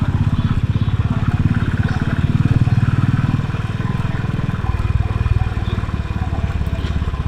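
Motorcycle engine thrumming steadily while riding through villages in Karnataka, loud and close with a rapid even pulse, easing slightly partway through and carrying on without a break.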